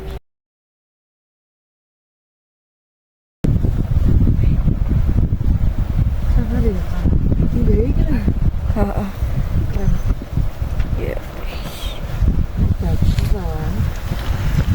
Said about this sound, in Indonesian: Apalagi debu datang dengan angin, yang membuat pandangan kita ikut terganggu.